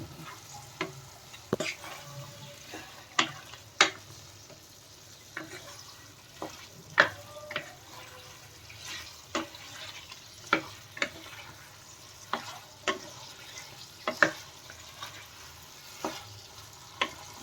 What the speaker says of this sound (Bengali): এটাকে ভালো করে নাড়াচাড়া করতে হবে